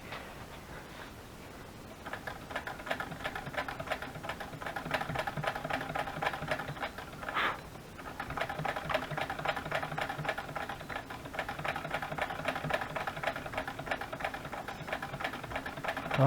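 A home sewing machine stitches steadily through fabric with interfacing, a fast even mechanical whir running continuously with a brief pause partway through.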